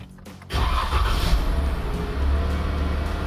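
A Jeep Wrangler JK engine cranks and catches, then settles into a loud, steady idle close by, with no talking.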